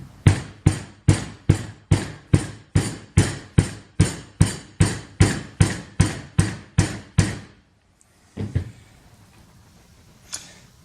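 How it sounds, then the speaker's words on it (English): Hammer taps on gantry rail parts of an RB3 X gantry being knocked back into line: a steady run of about sixteen sharp, evenly spaced metallic blows, close and loud, followed by a couple of faint clunks. "We're going to tap them back out to line everything up."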